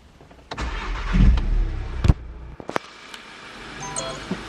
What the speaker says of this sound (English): now if I just start the car up,